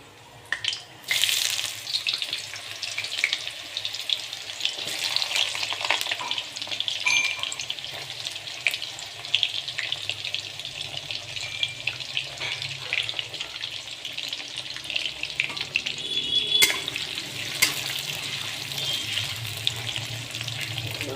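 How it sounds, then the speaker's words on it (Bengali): Bitter gourd fries in a full pan of hot mustard oil, a continuous close hiss and sizzle with crackling bursts that rises and eases over the stretch. "পুরো ফুল তেলে এটাকে ছাকা হবে।"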